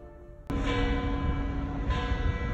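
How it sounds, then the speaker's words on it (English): Church bells at St. John Lateran Basilica in Rome begin ringing abruptly, a dense, loud, sustained clangor that fills the space and continues steadily without speech. "the bells are ringing"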